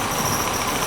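The Ooty–Coonoor heritage train rumbles at a hill railway station, a steady loud mechanical drone with no voices.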